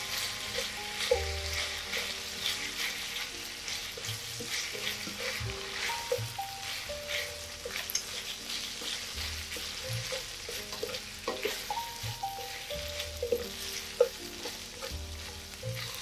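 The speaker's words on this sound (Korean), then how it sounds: "삼겹살이 어느 정도 익으면은 파를 넣어서 같이 파기름 내면서 볶아주세요" Pork belly and green onion stir-fry in a pan with a loud, continuous sizzle and frying crackle, with frequent scraping and clattering of a utensil as it is tossed. No one speaks.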